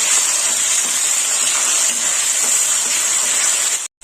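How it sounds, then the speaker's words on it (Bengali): Onion hisses steadily while frying in oil for a mutton curry, a bright continuous sizzle that stays even and close, then stops abruptly near the end. "পেঁয়াজটা একটু ভেজে নেব।"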